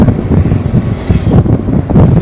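Congested traffic on the Lansdowne Bridge, with a loud continuous rumble of idling and creeping cars, trucks and buses close by and no distinct horns.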